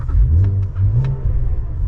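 A 2022 Cadillac CT4 V Blackwing's engine and open exhaust in V mode rumble loudly and close, a deep burbling growl with a couple of short revs rising and falling.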